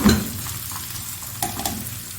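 Finely chopped onions fry over medium heat for dal chana fry, a close steady sizzle with a sharp clatter of stirring at the start and again midway.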